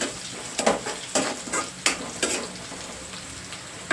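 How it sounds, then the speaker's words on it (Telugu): Fresh curry leaves sizzle in hot oil in a pan while cooking a broad bean fry, with a steady crackle broken by several sharp stirring scrapes and clicks. "ఇది కూడా కొంచెం ఫ్రై చేసేసుకోవాలి మనం వేసుకున్న కరివేపాకు కూడా బాగా ఫ్రై అయిపోతే"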